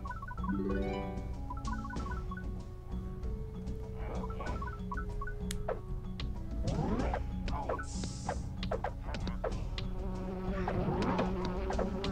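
Buzzing swarm of bees from an upgraded beehive attacking enemies in the video game Lumberwhack: Defend the Wild, a steady insect drone layered over game music, chimes and hits throughout.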